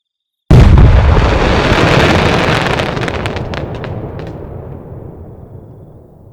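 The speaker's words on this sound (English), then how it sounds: "So the Tim creates the mother of all explosions." In the video game Fireworks Mania, a sudden, loud firework blast erupts, followed by a long crackling rumble of popping bursts that gradually fades away over several seconds.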